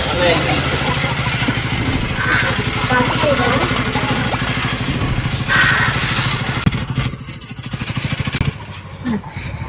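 A D250 motorcycle engine runs steadily and close by with a low, pulsing idle throughout, the rumble briefly dropping near the end, while people talk over it.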